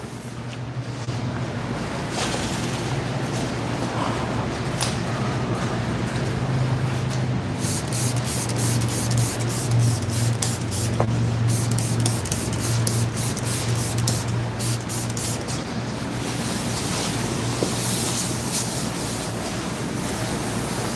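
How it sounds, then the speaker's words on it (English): Wax and grease remover hissing steadily from a spray can onto a 1968 Dodge Charger in a shop, a continuous close airy spray lasting the whole stretch with a low hum beneath and no voices. "This is wax and grease remover, so it evaporates."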